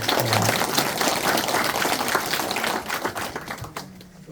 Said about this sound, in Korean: 박수 한 번 보내주시면 어떨까요?